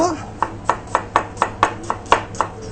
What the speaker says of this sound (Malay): Amboi terror potong bawang.